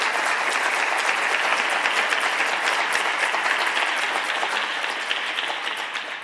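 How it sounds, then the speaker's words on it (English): A large audience at a University of Minnesota Rare Disease Day event applauds the speakers steadily for several seconds, the clapping dense and even before easing slightly at the end. "Round of applause, please, for our speakers."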